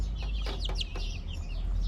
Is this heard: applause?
no